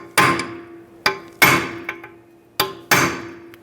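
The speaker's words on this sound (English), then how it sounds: "I'm going to take a punch and punch right in the center of it" A metal punch is hammered into the center of a rear brake rotor screw on a 2010-2017 Chevrolet Equinox: six sharp, ringing metallic strikes in uneven pairs, close and loud with quiet gaps between.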